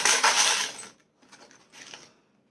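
Small charms are dropped onto a surface for a divination reading: a bright rattling clatter, then a short pause and two softer tinkling bursts, close and with no voices.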